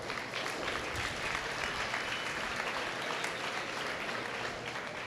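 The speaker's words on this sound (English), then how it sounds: "give them a nice round of applause" A round of applause from the crowd at a beef cattle show, steady, even clapping that holds throughout, heard at moderate distance.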